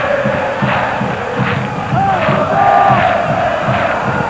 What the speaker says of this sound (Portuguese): E todo o incentivo da torcida para a equipe do Palmeiras